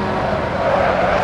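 A race car roaring past on the left in a sim-racing game, a 1937 Auto Union Type C on the Nordschleife, its engine a loud sustained drone rising slightly in pitch.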